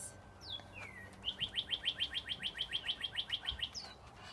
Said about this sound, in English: Did you hear the bird?